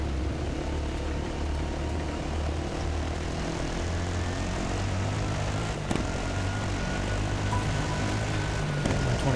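A helicopter flies over a 2022 Dakar Rally stage and drones steadily and loudly throughout, a continuous rotor and engine roar with no break.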